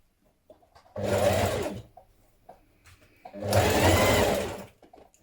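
A sewing machine stitching a tunic sleeve runs in two short bursts of steady, close mechanical whirring, separated by a pause with faint handling noises.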